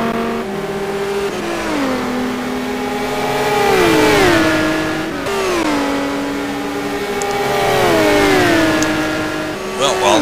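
A Lamborghini and a McLaren GT1 race car duel on the Daytona road course in a racing game, their high-revving engines climbing and dropping through repeated gear shifts, loud and close, with the pitch swelling and falling as they pass.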